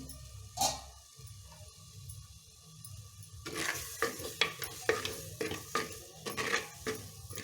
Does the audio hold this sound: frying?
yes